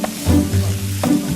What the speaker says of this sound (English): I'm quickly frying the marinated pork with vegetable oil to seal in the flavors.